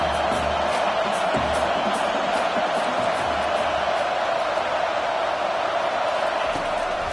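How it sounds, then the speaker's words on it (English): Steady roar of a stadium crowd cheering during a third-down defensive play in a college football video game, Michigan versus Washington, a loud constant wash of noise with faint low thuds throughout. "Decibels rising as the crowd gets behind this defense on third down"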